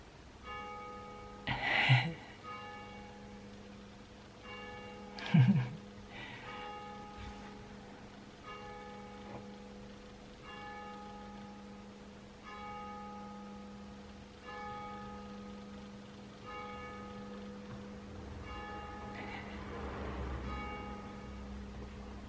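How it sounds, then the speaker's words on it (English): Village church bells ring at midday, steady tolling with sustained ringing tones, moderately distant and fairly faint, heard alone with no talking. "it's midday. I don't know if you could hear that. We live right by the village church"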